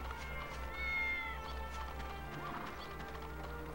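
Cat meowing in the video game Dragon Quest 8, a short synthesized mewing call standing out over steady game background music.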